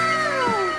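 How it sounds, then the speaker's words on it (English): A macaw gives a single short, whining call that slides downward in pitch, heard clearly and close. "Macaw."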